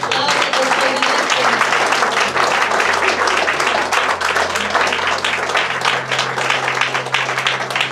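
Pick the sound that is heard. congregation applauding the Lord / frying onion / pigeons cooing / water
congregation applauding the Lord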